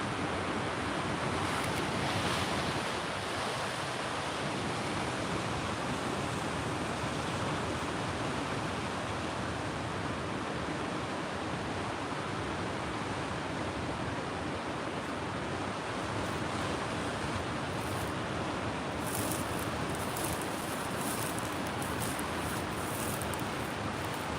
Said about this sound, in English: Have seen a couple rough waves kicking in there.